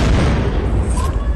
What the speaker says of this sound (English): He's throwing a grenade.